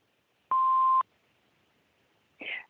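A single clean answering machine beep sounds for about half a second, steady and loud, followed after a pause by a brief breathy noise.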